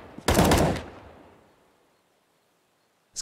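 A quick burst of rapid gunfire crackles in Counter-Strike on the Inferno map during a StarSeries i-League match, a few tight shots fading out, with another shot starting at the very end.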